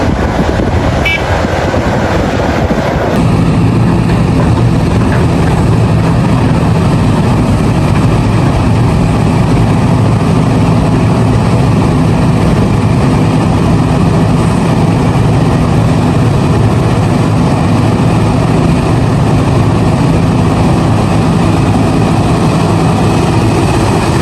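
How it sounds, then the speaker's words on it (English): A CAT 6015B mining excavator of over 140 tons runs at a mining site, its heavy engine a loud, unbroken low drone for the whole stretch, slightly shifting in tone after the first few seconds. "6015B, a purpose-built mining excavator designed for serious production"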